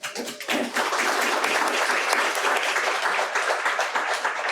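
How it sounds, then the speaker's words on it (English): Audience applause at a school district Student of the Month ceremony, a loud sustained round of clapping that starts with a few scattered claps and quickly swells into steady, even applause. "everybody can give you a great round of applause"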